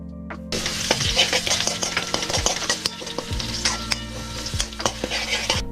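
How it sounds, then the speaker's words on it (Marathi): A sambar wadi filling mixture stirred and fried in a pan, with a steady sizzle and quick, repeated scraping strokes of a spoon sounding close and clear, and no talking. "याला छान हलवून घेतोय"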